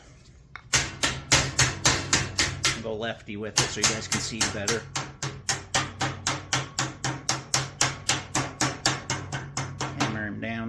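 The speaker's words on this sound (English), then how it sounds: "Thumping stick." A wooden thumping stick beats sheet metal while a base transition is formed for HVAC ductwork, giving a long, steady run of sharp, close knocks about three per second, with someone talking over them.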